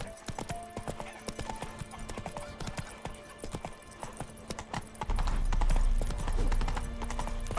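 Horse hooves gallop in The Witcher 3: Wild Hunt in the White Orchard area, a rapid, steady clip-clop up close, joined after about five seconds by a louder, low rumbling layer.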